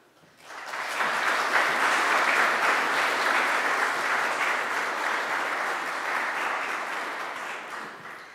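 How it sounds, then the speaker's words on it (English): Audience applause following a university computer science seminar talk, a steady sustained clapping from a full room that swells in quickly, holds for several seconds, and tapers slightly at the end. "So I'll assume that applause was for both Derek and Steve"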